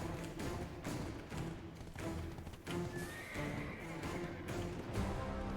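A horse in the online game Black Desert Online whinnies loudly and close up, with clip-clop hoofbeats thudding underneath and a few soft taps between the calls.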